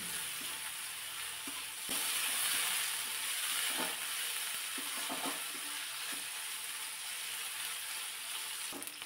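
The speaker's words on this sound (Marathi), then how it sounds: "कोबी सुद्धा थोडा वेळ परतून घेतला" Thinly sliced long shreds of cabbage with onion sautéing in oil in a pan, giving a continuous close sizzle with occasional soft stirring clicks and scrapes and no talking.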